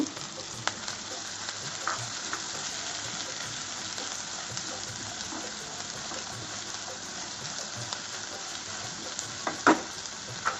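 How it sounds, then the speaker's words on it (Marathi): Chopped onions frying in about three spoons of hot oil in a kadai, a steady close sizzle with scattered pops and clicks, strongest near the end. "तेल तापलं की हे जे कांदे चिरून घेतलेले आहेत ते भाजून घेऊ"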